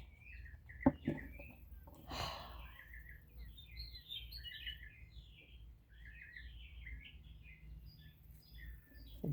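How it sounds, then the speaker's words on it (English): Birds chirp and sing outdoors in short, repeated high phrases over a faint low background hum, with one brief louder rustle near the start and no talking. "The birds are singing."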